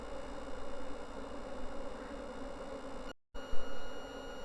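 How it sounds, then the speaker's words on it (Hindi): A swarm of honeybees buzzes around a hive, a dense, continuous drone heard close and loud, briefly cut out for a moment before resuming, with no talking. "यहाँ से देखिए इस तरफ भी मधुमक्खी का रुझान काफ़ी है,"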